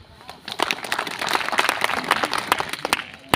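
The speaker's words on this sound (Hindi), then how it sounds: "राकेश एक बार ताली बजा दीजिए।" A crowd at an outdoor political rally claps in scattered, uneven bursts that build and thin out, with sharp individual claps standing out over a murmuring background.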